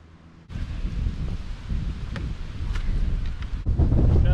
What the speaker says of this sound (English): Just a little bit breezy.